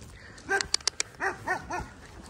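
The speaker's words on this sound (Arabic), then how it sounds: "بس شكله مزعج الكلب الثاني" A dog barks on a camping trip with horses in Bosnia: several sharp, fairly close barks in an uneven series, with a few clicks and faint voices nearby.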